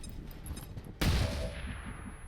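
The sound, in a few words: sniper rifle shot in the video game XCOM Long War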